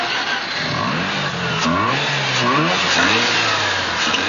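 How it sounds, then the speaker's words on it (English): A Mazda RX-8 coupe's twin-disc rotary engine revs steadily and loudly up close, its pitch rising and falling in smooth sweeping waves throughout, with no talk over it. "Mazda continues to place its faith in a rotary combustion engine, one with a distinct sound"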